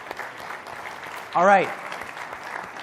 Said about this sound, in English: And so just round of applause to the SaaStr team